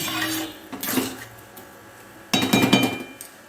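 A spoon knocks and scrapes against a pot while sweetened pulao is mixed, in two short bursts of clinking separated by a pause.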